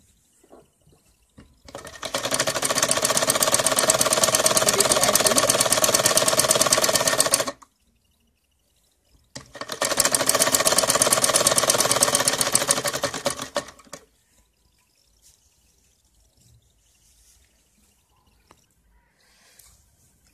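An electric sewing machine stitches salwar panels in two long, loud, continuous runs of rapid mechanical whirring, separated by a short pause and followed by near silence.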